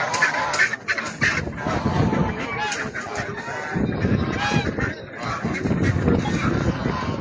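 Live geese and ducks at a Sabunchu poultry market honk and quack repeatedly in a busy, overlapping chorus, close and loud, with people talking among the birds.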